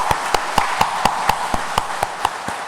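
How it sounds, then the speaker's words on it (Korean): A church congregation at a Sunday service at Andong Church claps together in a steady, even rhythm, about four claps per second, moderately loud and sustained, with no talk over it. "여러분께서 박수로 격려해 주시고 축하해 주시면 대단히 감사하겠습니다"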